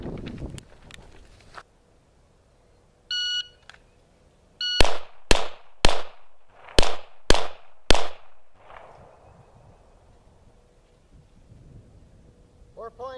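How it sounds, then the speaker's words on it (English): Six sharp handgun shots crack loudly in two quick groups of three, separated by a short reload pause, after some faint metallic clicks of handling. "That was the shoot, reload, shoot."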